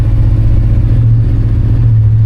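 A 1988 Chevrolet C10 pickup truck engine runs loud and close with a steady low drone and faint clatter, holding a constant pitch rather than clearly revving up.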